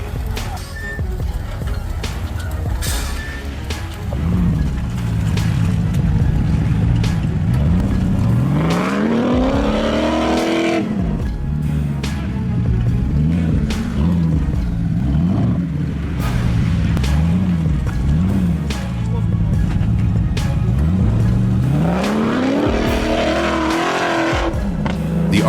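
A monster truck's engine roars and revs hard while it drags two stuck timber trucks out of deep mud, the pitch sweeping up and down in repeated loud surges with faint tire squeal over a constant heavy drone.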